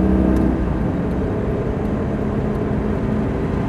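Lamborghini Gallardo engine under gentle throttle on a driving course, a steady close drone that stays fairly even without a sharp rise.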